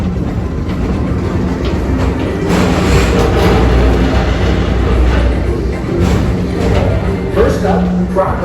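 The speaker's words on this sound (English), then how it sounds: "Don't worry, your express train keeps on rolling through the future" A Magic Kingdom ride train at Walt Disney World rolls along steadily with a continuous low rumble and faint rhythmic clatter from the rails, loud and close as if heard from onboard.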